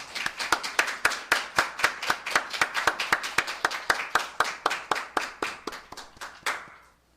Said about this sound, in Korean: 하나님께 감사와 영광의 박수를 올려드리시겠습니다